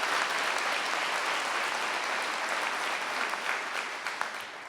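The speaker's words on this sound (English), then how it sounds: "he deserves a round of applause right now for his hard work and dedication" An audience applauds at the KentuckyWired infrastructure project kick-off event, a dense, steady clapping that holds for the whole stretch and tapers slightly at the end.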